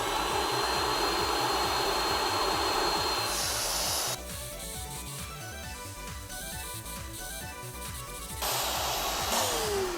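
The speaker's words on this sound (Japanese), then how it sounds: "そしたら吸っていきます。" An Iris Ohyama RNS-P10-W rinser cleaner sucks up dirty water and dirt with a loud, steady suction roar that shifts to a lower, rougher tone midway as the head presses against fabric, then rises again.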